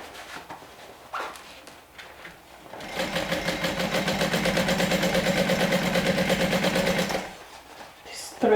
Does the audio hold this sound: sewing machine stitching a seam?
yes